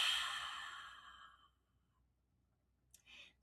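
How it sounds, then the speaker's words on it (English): A long breathy open-mouthed exhale like fogging up a mirror, soft and close, fading out over a second and a half, followed by a short quiet intake of breath. "go ahead and pretend like you're fogging up a mirror like this"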